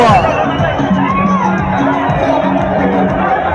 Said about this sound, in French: Voilà la foule.